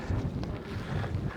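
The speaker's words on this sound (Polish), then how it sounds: "Zobaczcie, jaki to jest wiatr." Strong wind gusts roar across the Karwendel summit above Mittenwald, buffeting the microphone with a loud, continuous low rumble and no voices.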